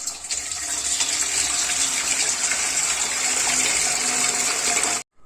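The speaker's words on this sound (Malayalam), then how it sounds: "ഇനി ഇതിലേക്ക് നമുക്ക് കുറച്ച് വെള്ളം ഒഴിച്ചു കൊടുക്കാം" Water gushes in a loud, continuous stream into a large bowl holding turmeric powder, pouring steadily at close range before stopping abruptly.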